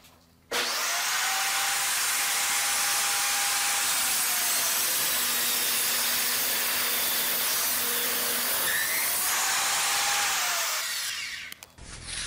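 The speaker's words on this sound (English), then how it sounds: "it's time to get down to business and cut a super shim" Loud, continuous table saw cut through a long wooden board, tapering a super shim, with the blade's whine holding steady for roughly eleven seconds before winding down at the end.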